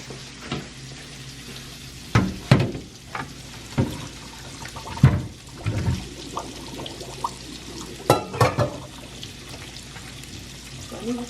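Water drained from a pot of boiled corn in a home kitchen, coming as several splashy bursts and pours over a sink with faint clatter between them.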